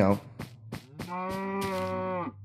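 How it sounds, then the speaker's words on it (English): A cow in the Minecraft video game moos once after several short clicks, a loud drawn-out nasal low call heard close and alone. "where's that cow? I heard a cow."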